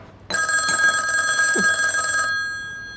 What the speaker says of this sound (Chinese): 老爷，电话响了，您接吧